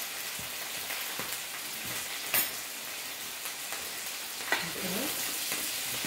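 Pinakbet vegetables with kabocha squash and onions fry in a pan with a soft steady sizzle, broken by scraping stirring strokes close by; a person says a brief word at the start.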